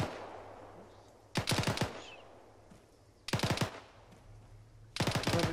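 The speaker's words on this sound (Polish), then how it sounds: "To tak jakby z północy gdzieś strzelali," Gunfire in a tactical co-op video game comes in three short automatic bursts, each a rapid cluster of sharp shots, separated by quiet gaps over a low hum.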